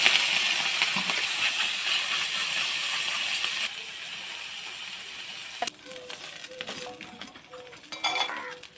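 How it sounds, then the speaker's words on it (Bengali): Fish frying in smoking-hot oil for a crispy fried-fish dish: a steady hiss of sizzling, then utensil clicks and scraping over a softer sizzle. "এই যে তেল ভালো করে গরম হয়ে গেছে, একদম ধোয়া উঠছে। এবার মাছগুলো দিয়ে দেবো।"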